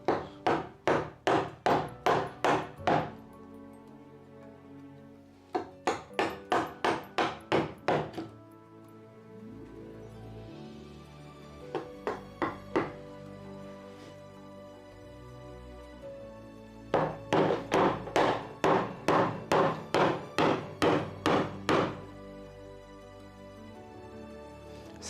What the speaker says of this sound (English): So I will use a smaller chisel, mid-sized chisel.